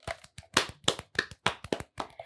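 A small audience claps in a loose rhythm, with about a dozen distinct, close, sharp hand claps spaced irregularly.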